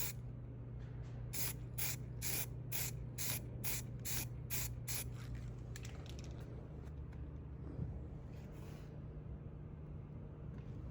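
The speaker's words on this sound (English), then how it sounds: "spray paint. I'm gonna rattle can it, just on top and on the bottom, kind of protect it from the elements" A rattle can sprays paint onto a damaged 2025 Low Rider S motorcycle fender in about nine short, evenly spaced hissing bursts, followed by a few fainter, looser sprays over a low background hum.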